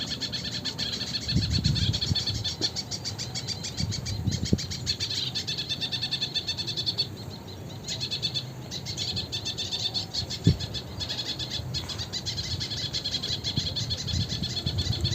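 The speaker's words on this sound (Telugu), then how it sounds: "డిఫరెంట్ బర్డ్స్ చూసారా, వాటి సౌండ్స్." Various birds calling in an urban biodiversity park, a continuous layered chorus of chirps and trills at moderate distance over steady outdoor ambience.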